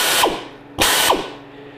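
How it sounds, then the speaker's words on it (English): Air-operated hand shears cutting sheet metal for a 1974 Dodge Challenger wheel well and rocker patch: two loud, close bursts of rapid mechanical chattering, each cutting off abruptly, with no talking. "I purchased one of these air operated hand shears"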